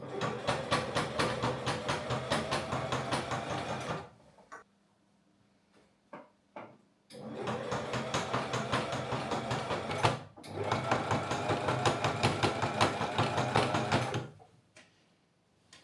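A sewing machine stitches the original hemline back onto a summer garment in long steady bursts of rapid mechanical chatter, close and loud, with short quiet pauses between runs.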